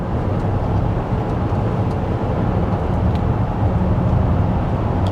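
A 2024 Chevy Traverse RS rolling through a corner, giving a steady cabin drone of road and tyre noise with a constant low rumble and no talking.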